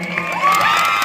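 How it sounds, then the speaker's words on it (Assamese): An audience at a Bihu stage show cheers and whoops in a brief swelling burst, with the crowd's voices rising together. "এতিয়া হাত চাপৰি দিয়কচোন বাৰু সকলোৱে"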